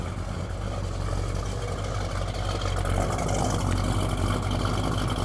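A 1970 Chevrolet Chevelle V8 idles steadily, its engine and exhaust giving a continuous low rumble heard close up with no talking.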